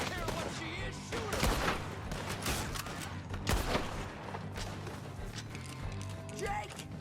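Several bursts of gunfire ring out in Red Dead Redemption 2, with shots and a volley near the start and middle, set against a busy game mix that includes hoofbeats and shouted voices.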